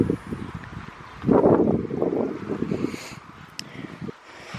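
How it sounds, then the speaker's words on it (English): Wind gusts through a garden in May, a rough, blustery rush that swells strongly after the first second, then fades into lighter buffeting and rustling. "here comes the wind"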